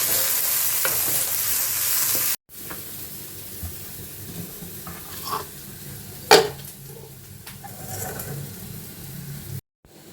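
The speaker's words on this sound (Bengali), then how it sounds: "এই একটু নারকোল ভাজা করব" Grated coconut frying in a pan in a home kitchen, with a steady crackling sizzle, occasional scrapes and stirring clinks of a utensil against the pan, and brief gaps where the sound cuts out.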